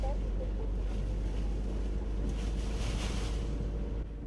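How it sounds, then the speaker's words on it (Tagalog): Strong typhoon wind and rain from Typhoon Quinta lash Camarines Sur, a steady, loud roar of gusting wind and rushing water filling the whole stretch without pause. "malakas na hangin at ulan nga ang naranasan sa Camarines Sur sa pagdaan ng Bagyong Quinta"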